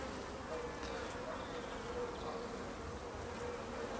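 Honey bees buzz steadily over an open hive during an inspection, a dense, even drone with no break, close by and moderately quiet, lifted frames covered in brood and young bees.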